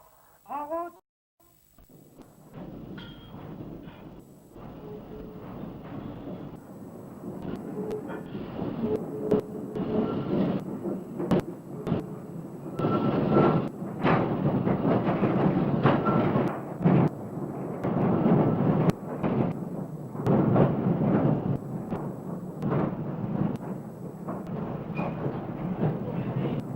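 Underground ore train pulling away in a Lorraine iron mine, a loud continuous rumble and clatter of wagons building steadily and filling the tunnel, with occasional voices heard beneath it.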